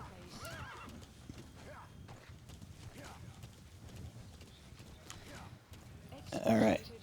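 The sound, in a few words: horse galloping and neighing in the video game Metal Gear Solid V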